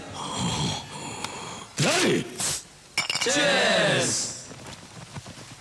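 Glasses clink together in a toast during a Telugu film scene, with a few bright chinks scattered among loud voices and gasps.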